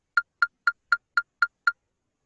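Seven crisp, evenly spaced eighth-note clicks from a metronome app tick in a steady rhythm, close and clear, then stop, with silence around them.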